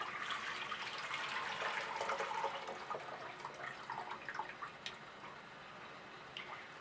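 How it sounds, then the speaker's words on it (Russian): Hot water from steeping tomatoes for marinating with plums is poured off out of a jar, a steady splashing, trickling stream that runs nearby and fairly loud for several seconds, then thins into drips and dribbles. "Сейчас мы эту воду сольем с помидорок."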